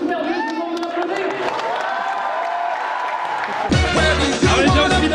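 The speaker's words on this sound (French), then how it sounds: "je vous demande de l'applaudir" Audience at a Toulouse gaming event applauds and cheers, a dense wash of clapping with crowd noise, swelling louder and rougher near the end.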